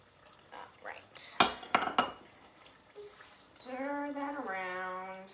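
A utensil stirs ginger into tomato and coconut chicken in a pan, with a few sharp metallic clinks and scrapes, followed by a voice speaking near the end.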